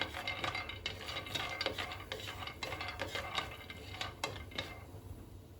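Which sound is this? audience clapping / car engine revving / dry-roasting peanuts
dry-roasting peanuts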